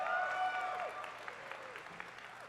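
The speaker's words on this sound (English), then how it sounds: "That is a round of applause for yourselves." An audience at the ENNIES 2024 awards show applauds, a soft spread of clapping from a large room with a few whistles and cheers rising over it before the clapping thins out.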